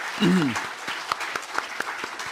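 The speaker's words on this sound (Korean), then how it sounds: "우리 하나님께 감사와 또 영광의 박수 올려드리기 원합니다" A church congregation at an anniversary worship service gives applause, scattered claps under a brief voice, fairly close and moderately loud.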